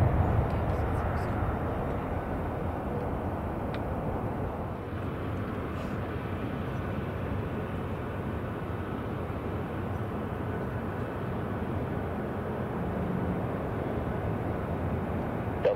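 A jet airliner, a Delta flight, takes off from runway 12 right at Minneapolis–St. Paul airport, making a loud, steady, broad roar that holds without a break from start to end.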